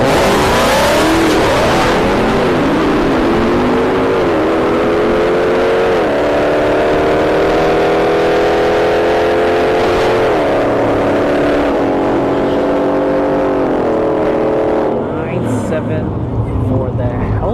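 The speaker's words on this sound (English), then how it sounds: "He's got an Opel GT with a 2JZ, and he's gonna Pro Charge it." An Opel GT with a 2JZ engine drag races at a motorsports park, its loud engine screaming as it climbs through several gear changes, marked by repeated pitch rises and drops before it fades away.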